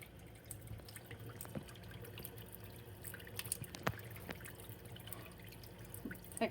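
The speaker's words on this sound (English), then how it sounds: "running cold water." A cold tap runs quietly in a steady stream in a chemistry lab, with occasional drips and splashes standing out against the soft flow.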